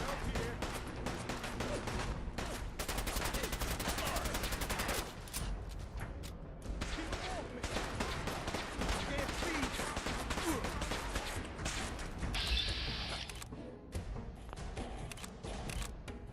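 Gunshots in the video game Fallout 4, a dense string of rapid firing forming a loud, sustained burst followed by scattered further shots, with someone talking over parts of it.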